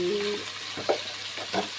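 Capsicum fries lightly in a pan with a continuous close sizzle, broken by a couple of brief stirring scrapes, and no talking.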